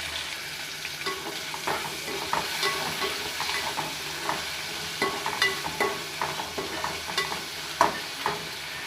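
Eggplant and potato pieces fry in a pan for a Tamil-style poriyal, with a continuous sizzle and a run of quick stirring scrapes and taps that grow busier toward the end, close and clear with no talking.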